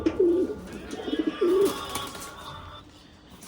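Madrasi and Malwai pigeons kept in a rooftop loft give two clear, close rolling coos, separated by a short pause, followed by softer rustling and faint background noise.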